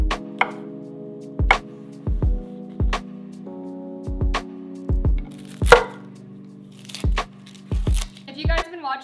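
A knife chops a white onion on a cutting board, leaving a series of crisp, separate thuds at an uneven pace while someone talks over them.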